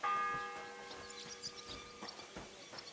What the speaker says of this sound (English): The first bell.